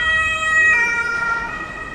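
Ambulance siren wailing close and loud, its sustained tones sliding through a brief two-second pass with no voices.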